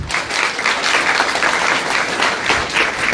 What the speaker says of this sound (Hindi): अपने लिए तो तालियां।